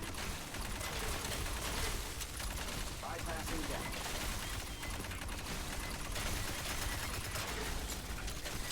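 Rapid machine gun fire from Aliens: Fireteam Elite rattles in a dense, continuous stream for the whole stretch, loud and close, with a voice talking over it at times.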